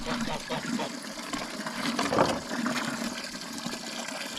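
Water gushes and splashes steadily into an animal waterer on a farm during summer chores, a continuous near pouring wash with slight surges.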